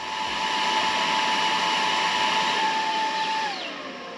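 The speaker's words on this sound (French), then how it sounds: "je vais vous faire écouter le ventilo de la station d'énergie" A steady, loud whirring cooling fan of an ALLPOWERS R2500 portable power station with a constant hum, running alone, then winding down slightly near the end.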